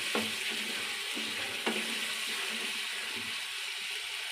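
A masala paste of mustard, poppy seed, cashew and green chilli fries in a pan with a steady close sizzle. A few soft stirring knocks sound over it and nobody speaks.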